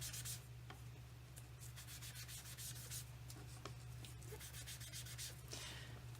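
A stamping sponge rubs crushed curry ink onto paper in quick repeated scrubbing strokes, close and clear, with a steady low hum underneath.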